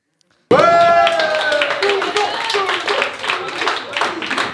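Audience at a comedy roast bursting into applause after a sudden start, dense steady clapping lasting several seconds with voices and shouts mixed in near the beginning.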